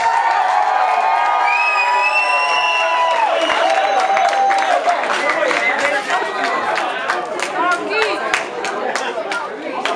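An audience in Dutch applauds and cheers for a singer at a single presentation, with clapping, shouts and lively crowd chatter mixed together, loud and close, while a voice carries tonal calls over the noise early on.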